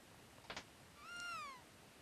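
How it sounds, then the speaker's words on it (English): A single cat meow in the video game Chrono Trigger, clear and fairly faint, preceded by a couple of soft clicks, in otherwise quiet surroundings. "I think we heard the sound of a cat."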